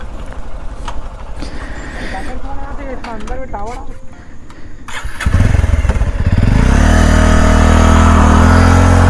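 A motorcycle on a rough, waterlogged rural road sputters and then catches, its engine rising into a loud, steady revving rumble close by, with people talking during the first half.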